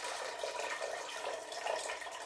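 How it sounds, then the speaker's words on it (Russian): Water splashes steadily out of a glass jar of pickled cucumbers as it drains through a perforated lid, a soft continuous pouring trickle with no voices. "снимаем крышечки и сливаем водичку"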